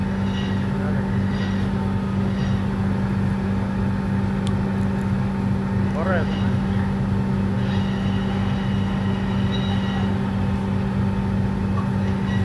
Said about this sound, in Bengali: কোনো ঝামেলা নাই, কোনো টেনশন নাই, মেশিনের সাহায্যে সব কাটা হচ্ছে।